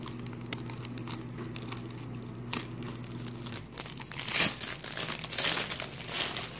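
Plastic leopard print bag being handled, giving close, irregular crinkling and rustling that grows busier and louder toward the end, with no voices.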